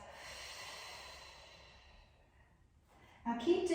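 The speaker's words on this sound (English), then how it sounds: "breathe out through your mouth as if you were blowing out a candle" A long, steady exhale through the mouth, like blowing out a candle, during a Pilates breathing exercise, fading gradually over about two seconds before a brief louder burst of noise at the end.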